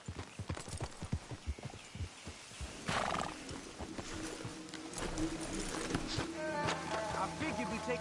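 Horses in the Western video game Red Dead Redemption 2 clip-clopping close by, then coming to a halt with a whinny and snorting, over an outdoor bed of buzzing insects.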